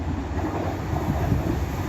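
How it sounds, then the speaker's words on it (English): Two coupled Class 195 diesel multiple units run from Manchester Victoria to Leeds and pass through Castleton with a steady, loud, close rumble and wheel roar. "The next train to be coming through will be a pairing of 195s from Chester"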